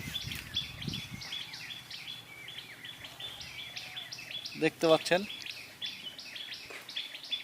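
A baby bird chick calls in rapid, high chirping bursts, repeating through the stretch with a louder flurry midway, close by, while a person speaks briefly and quietly.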